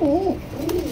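A black racer pigeon coos close by, giving two soft, low, rolling coos in about a second.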